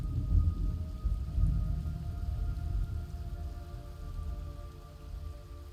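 Rain falls steadily in a thunderstorm scene in the video game Metal Gear Solid Delta, with low rolling thunder rumbling underneath, constant and moderately loud.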